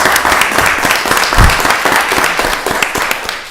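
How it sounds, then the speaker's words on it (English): An audience at a county board of commissioners meeting gives a round of applause after a presentation: loud, continuous clapping filling the room for several seconds, with no talking over it. "let's give them a round of applause for the presentation"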